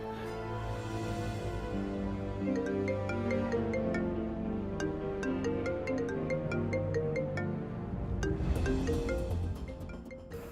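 A phone ringtone plays a melodic electronic tune for about ten seconds, loud and steady, in an indoor setting at night.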